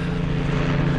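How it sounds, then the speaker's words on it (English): A helicopter flies overhead, its engine producing a loud, steady, droning rumble with a low throbbing beat throughout the second, with no voices, near Low Moor, Bradford. "Got a helicopter there."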